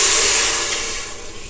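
A liter of milk is poured into a pot over rice sautéed in ghee for pal payasam, making a loud, close, steady rushing hiss that gradually fades, with no talk.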